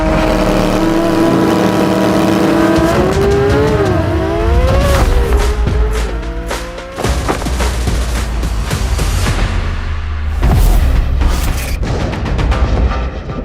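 A 2023 C8 Corvette Z06, Porsche 992 GT3, Ducati V4 SP2 and Audi R8 V10 race together, loud engines revving up through the gears with sharp pitch climbs, gearshift drops and popping exhaust bangs, close and continuous.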